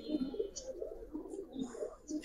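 Healthy Giribaz and racer pigeons coo close by, giving a run of low, throaty, rhythmic burbles that repeat every few moments, with faint higher chirps in the background.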